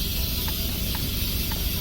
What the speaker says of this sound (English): When it's done venting, you'll know. You'll stop hearing the hiss.